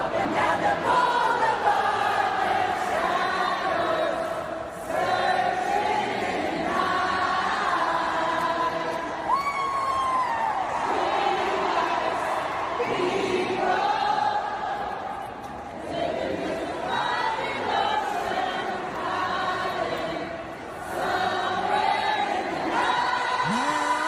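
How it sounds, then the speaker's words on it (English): A stadium crowd of about 60,000 people sings a song together after a power outage, a loud, sustained mass of voices carrying the tune with shouts and cheers mixed in. "And then the crowd takes over to sing."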